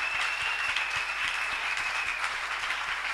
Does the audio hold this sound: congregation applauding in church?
yes